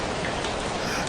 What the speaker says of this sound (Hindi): बट सडनली देखा तो बारिश हो रही है